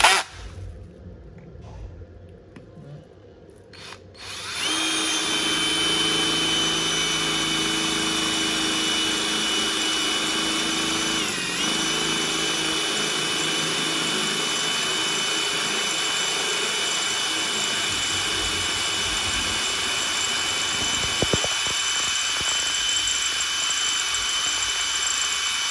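A power drill fitted with a Nachi 6.3 mm bit starts up after a quiet moment and drills into steel with a steady, loud whine that lasts about twenty seconds, with no talking.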